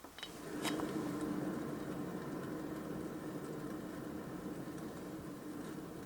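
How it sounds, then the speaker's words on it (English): A damaged car wheel bearing, with the brake disc and pads removed, gives a steady low grinding hum as the wheel turns, faint and continuous throughout with a slight ringing tone. "If you have take away brake disc and brake pads, then there is only sound of bearing."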